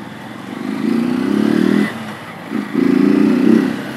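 A Honda CG 160 Fan motorcycle exhaust, fitted with a washer at the end of the pipe, revs twice, a loud, rumbling low drone that swells, drops briefly, then climbs again, close up.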